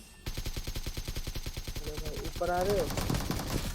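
Rapid automatic gunfire from BGMI (Battlegrounds Mobile India) mobile game, a sustained rhythmic burst of close shots with game effects layered in toward the end.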